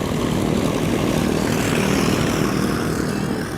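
A B-25 bomber's propeller engines drone loudly and steadily overhead, a thick continuous roar with a slight shift in pitch as the aircraft passes.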